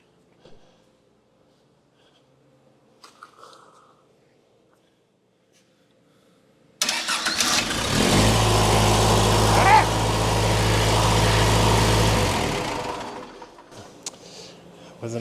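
Case 1840 skid steer under restoration, quiet with small handling noises before its diesel engine abruptly starts and runs at a loud, steady low-pitched chug for several seconds, then drops off near the end.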